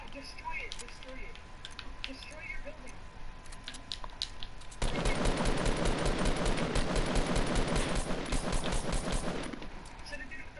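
Minigun firing in Fortnite, a rapid dense stream of shots that starts abruptly midway and rattles on for several seconds before stopping, following quieter game ambience.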